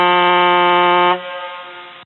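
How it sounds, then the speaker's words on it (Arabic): Train horn sound effect, a loud sustained multi-tone blast for about a second that drops to a quieter lingering tail before cutting off; no talk. "صوت القطر اللي انت لسه سامعه ده هيصحي ايام وليالي من السنكحه التسعيناتي على النت"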